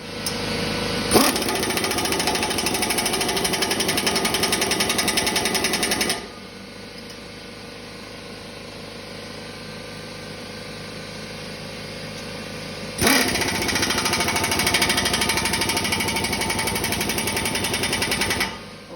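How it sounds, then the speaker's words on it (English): Impact wrench tightening the blade nuts on a Rotadairon RD200 rotary tiller, two loud close bursts of rapid hammering lasting several seconds each, separated by a quieter stretch of steady machine hum. "tighten them down just as tight as you can get them with the big gun"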